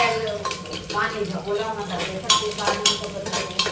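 Rice for salted pulao is tempered in a pan: stirring and clinking with light sizzling, utensils scraping against metal while a voice talks nearby.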